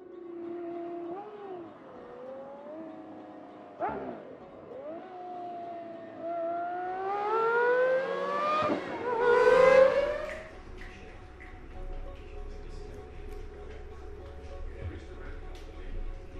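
A T.50 supercar engine being revved toward its 12,100 RPM limit, rising in pitch through a couple of climbing blips to a loud peak, then dropping to a low idle rumble, with brief voices audible early on.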